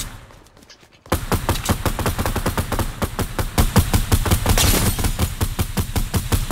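Rapid bursts of suppressed assault rifle fire in Fortnite Battle Royale, starting after a second of near quiet and then rattling continuously and loudly in dense, even shots with no talking.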